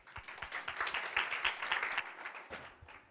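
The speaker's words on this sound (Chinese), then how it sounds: "让我们掌声欢迎他" A conference audience at PHPConf Taiwan 2013 claps to welcome a speaker to the stage: a dense, even patter of many hands that holds steady for about three seconds, moderately loud and close.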